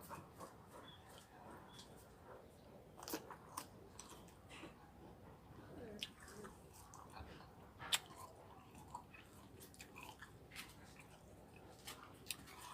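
Close, quiet chewing of tamarind with soft irregular bites and crunches spread over several seconds, with faint background noise.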